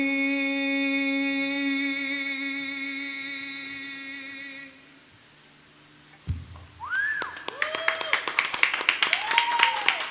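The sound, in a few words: audience clapping after a song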